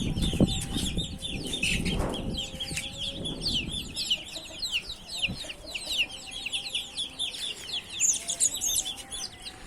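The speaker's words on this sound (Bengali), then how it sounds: "সবগুলাকে একসাথে ছাড়ার কারণে মনে হচ্ছে যে পুরা ছাদের মধ্যে পাখির বাচ্চা খেলা করতেছে" A flock of young chicken chicks roaming a rooftop, their thin high peeping and chirping running continuously throughout. Louder low knocks and rustling come near the start, then the chicks carry on alone.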